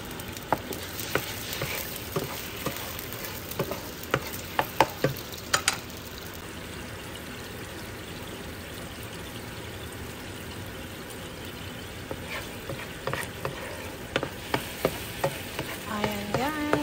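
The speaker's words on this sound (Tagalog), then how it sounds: "ang next step natin is ika-caramelize ko yung ating brown sugar" Brown sugar caramelizing in a frying pan for pan-fried banana, a quiet continuous sizzle with scattered stirring clicks and scrapes, no voices.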